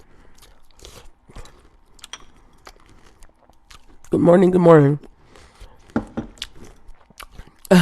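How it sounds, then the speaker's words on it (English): Someone crunches food while eating, with scattered sharp bites and chews close to the mic, broken by a brief spoken greeting in the middle. "You guys gonna hear me crunch"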